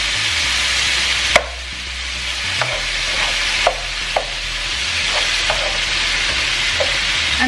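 Meat frying in a pan for a Mexican meat and potato dish, a loud, even sizzle, close up, with occasional utensil clicks against the pan.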